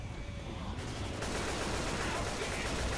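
Gunfire in the video game Left 4 Dead 2, a dense, continuous burst of rapid automatic shots that starts partway through and keeps roaring loudly to the end.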